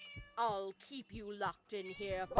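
Cat meowing in the video game Scary Teacher 3D, several drawn-out, close meows in quick succession with a voice speaking briefly alongside.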